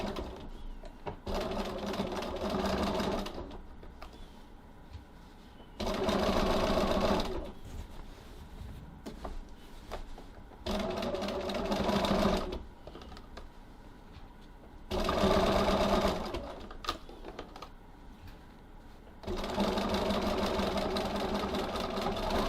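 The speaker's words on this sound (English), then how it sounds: "So now that we have stitched the corners" A sewing machine stitches the corners of a tote bag's lining panels in several loud, buzzing runs of a few seconds each, broken by quieter pauses with faint handling noise.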